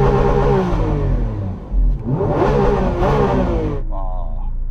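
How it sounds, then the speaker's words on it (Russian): A Lamborghini Aventador SVJ's naturally aspirated V12 revs loudly up close, its pitch sweeping up and down in two surges before settling to a lighter idle. "Теперь послушаем твой атмосферный V12."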